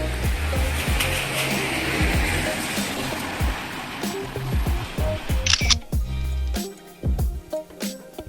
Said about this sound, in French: Je vais quand même prendre ma petite photo.